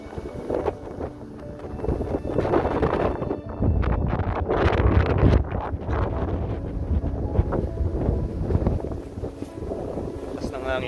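Strong wind buffets the microphone in steady gusts around the city limits of Edmonton, Alberta in autumn, with a rumbling roar and faint background voices, like being out on a boat.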